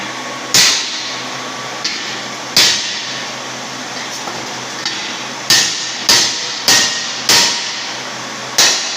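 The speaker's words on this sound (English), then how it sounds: "Grab that hammer back there." A hammer taps repeatedly on metal letters for a ranch corral sign, giving seven sharp, ringing strikes at uneven intervals over a steady background hum, fairly close and with no talk.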